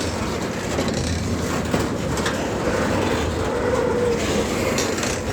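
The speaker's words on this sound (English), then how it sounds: "You hear the knuckles stretching, what they call stretching." A freight train pulls away on the Stony Point line in Australia, its knuckle couplings stretching one after another under a steady, close, continuous rolling rumble with faint metallic clanks and no voices.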